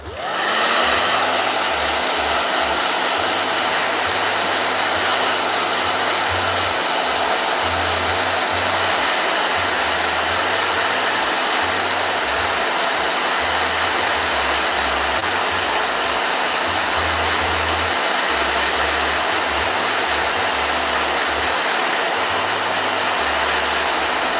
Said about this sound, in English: So you use a blow dryer to prevent the colors from mixing between the different layers.